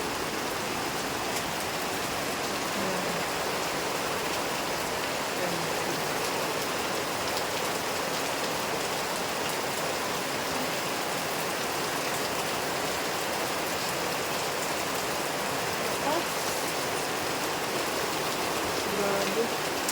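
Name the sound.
heavy rain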